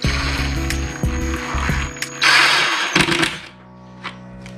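A power screwdriver drives screws during a trolling motor controller install on a boat, with bursts of whirring motor and ratcheting that start and stop, close and loud, then fading to quiet.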